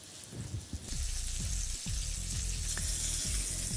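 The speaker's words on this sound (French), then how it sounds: "on pose le magret toujours côté gras en premier dans la poêle" A duck breast laid fat side down in a hot pan sizzles and crackles steadily, with scattered pops of spattering fat running throughout at close range.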